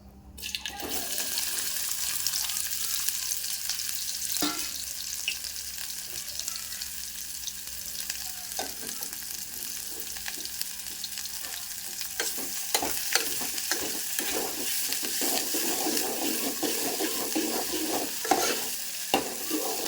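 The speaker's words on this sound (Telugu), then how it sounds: "కాకరేలు మనం మంచిగా ఫ్రై చేద్దాం" Bitter gourd pieces fry in oil in a pan with a steady, dense sizzle that runs the whole time, broken by occasional clacks of stirring.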